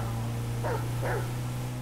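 A dog barks twice in GTA 5, two short close yelps over a steady low game hum with no talking.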